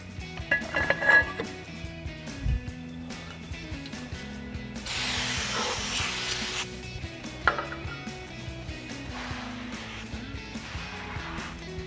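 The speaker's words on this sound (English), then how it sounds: "So we'll get our brake cleaner and a clean microfiber or a shop rag." Brake cleaner hisses in a strong steady spray burst of a couple of seconds onto a brake rotor during a Toyota 4Runner six-lug brake job, among clinks and clanks of metal parts and tools.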